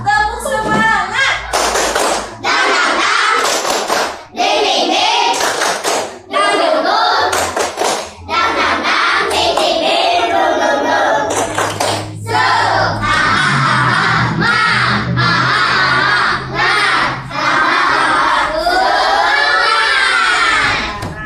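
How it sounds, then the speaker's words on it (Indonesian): Schoolchildren in an Islamic religious education class perform a rhythmic clapping chant, sharp bursts of group claps alternating with loud shouted voices in a repeated pattern, close and energetic throughout. "Sebelum belajar kita tepuk semangat dulu biar belajarnya nambah semangat."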